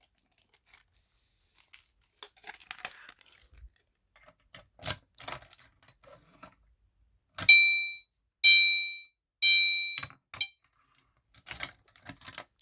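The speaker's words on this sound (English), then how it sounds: "Then we're gonna go ahead and key activate the alarm." A Simplex fire alarm, activated with a key, gives three loud, evenly spaced horn blasts after several seconds of small clicks and handling noise, and quiet ticking continues afterward.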